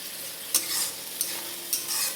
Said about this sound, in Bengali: এবার ভালো করে একটু ভেজে নেব মশলাটাকে